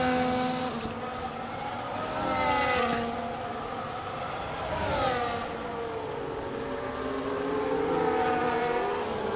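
An F1 race car in the F1 25 video game drifts through corners, its high-pitched engine screaming and sweeping up and down in pitch as it revs, with several cars roaring past in waves.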